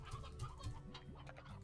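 Chickens in the video game Slime Rancher cluck softly in short, repeated bursts, faint and low in level, with no speech over them.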